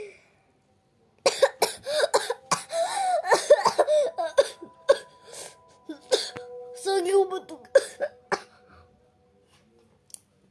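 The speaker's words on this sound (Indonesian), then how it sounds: "Aduh, gue batuk lagi." Someone coughs repeatedly in bursts of harsh throat-clearing hacks while playing the Indonesian horror game Eyes, with talk and laughter mixed among the coughs.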